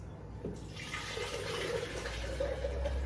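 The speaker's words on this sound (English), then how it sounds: "Add water." Water poured into a cooking pot for Nigerian Ikale eggplant soup, a steady close splashing stream that runs continuously through the whole moment with no talk.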